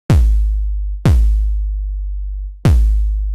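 A synthesized 808 kick drum with a touch of added noise hits three times, each a punchy click followed by a deep, booming tone that slowly decays, loud and isolated.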